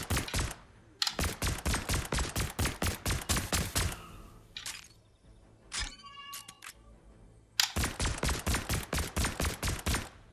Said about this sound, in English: The Stark Industries energy rifle also behaves the same way as those other semi-auto weapons.